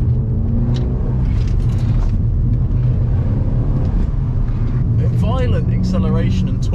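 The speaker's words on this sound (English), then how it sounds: "Violent acceleration and torque steer on the front wheels" An Abarth car engine roars under hard acceleration, a loud, continuous rumble inside the cabin, with someone talking over it.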